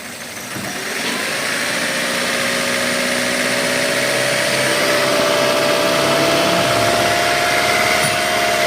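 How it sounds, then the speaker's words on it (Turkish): A misfiring car engine idles loudly and steadily at close range, its tone slightly uneven and rising a little in pitch, with no voices. "Arabada tekleme sorunu var arkadaşlar."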